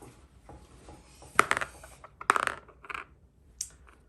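Dice for a Flames of War Team Yankee tank game rattle across a tabletop in two short clattering bursts, close and crisp, then a last small click.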